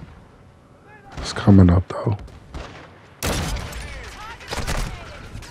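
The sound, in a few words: Victus XMR sniper rifle shots in Call of Duty MWII video game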